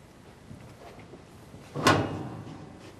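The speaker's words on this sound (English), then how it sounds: "The door opens up and gives you access to the ash pan." The full-width fire door of a Hasty-Bake Legacy charcoal grill swings open onto the ash pan, a single sharp metallic clank followed by a brief rattle in a quiet setting.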